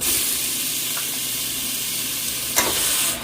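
Mutton pieces sauté with chili powder in a hot pan, a steady close sizzle and hiss with a faint scrape near the end, no voices.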